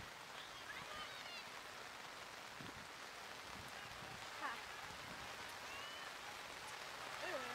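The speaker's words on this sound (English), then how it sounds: "Rain's dying." Soft, steady rainfall pattering outdoors at a youth soccer game, faint and continuous with scattered distant sounds.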